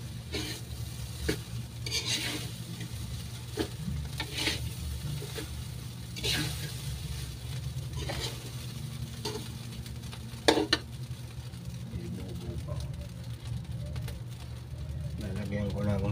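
Fried rice (sinangag) stirred in a sizzling pan, with repeated scraping spatula strokes and clinks over a continuous low frying hiss, close and moderately quiet.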